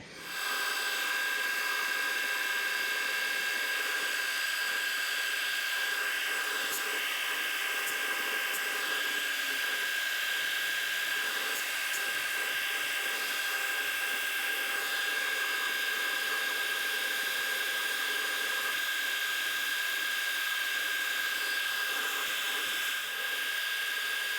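A metalworking machine cuts a 4mm slot for a homemade boring head with a continuous high-pitched whine and hiss that stays steady and fairly loud throughout.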